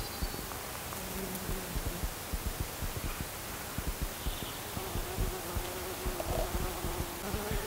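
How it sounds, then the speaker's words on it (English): A bee buzzes on borage flowers in an English garden in June, a faint, steady drone under breezy outdoor rustle, with no talking. "there's a bee on the borage."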